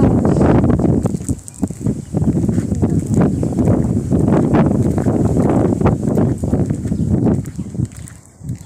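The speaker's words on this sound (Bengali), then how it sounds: "হাওয়া হচ্ছে প্রচুর" Strong wind buffets the microphone in loud, gusty rumbles, with faint rustling and clatter mixed in and no clear speech.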